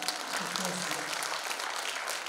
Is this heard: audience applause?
yes